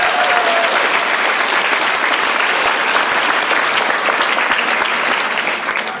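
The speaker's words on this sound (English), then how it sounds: "give yourself a round of applause" Loud, dense applause from a large audience at a business sales gathering at the Crowne Plaza in Dublin, a steady wash of many hands clapping that holds for the whole stretch and eases slightly at the end.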